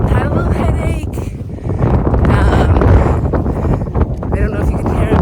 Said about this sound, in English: it's fairly windy, and the wind definitely has a chill to it